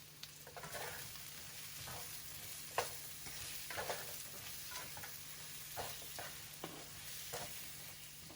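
Tomato and garlic sizzle steadily in a hot frying pan for Peruvian lomo saltado, a constant crackling hiss broken by soft stirring scrapes and taps. No one speaks.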